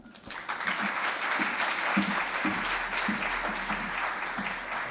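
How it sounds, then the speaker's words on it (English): Steady applause from a conference audience, warm and sustained throughout, rising quickly at the start and holding at a constant level. "please give her a warm applause, Barbara Cueto."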